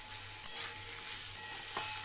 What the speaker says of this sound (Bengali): এখন আলুটা একটু ভাজা হবে